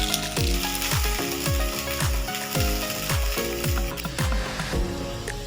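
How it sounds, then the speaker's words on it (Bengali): Rice-flour pitha pancake frying in oil after being flipped, a steady sizzle under a series of regular, evenly spaced mechanical clicks. "দেখো, এই পিঠটাও খুব সুন্দর ভাজা হয়েছে"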